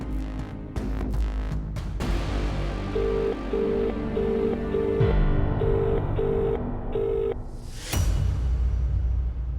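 A series of short, evenly spaced electronic dialing tones beeps over a busy background of music and ambient noise, followed by a whoosh.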